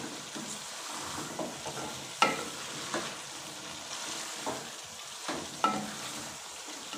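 Potatoes and carrots stir-fried in ghee over a high flame for a village-style aloo gajar dish, with a steady sizzle broken by several sharp spatula scrapes and knocks against the pan.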